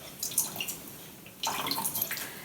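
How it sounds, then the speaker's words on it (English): Fish sauce poured in a few glugs into miso soup: two close bursts of liquid splashing and gurgling, separated by a short pause, with no talk. "I am going to add a little bit of fish sauce, so I'm going to put just a few glugs"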